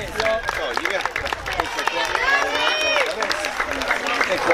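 Crowd applause at an outdoor International Women's Day ceremony in Atripalda unveiling red benches against violence, a steady spread of clapping mixed with chatter and raised voices throughout.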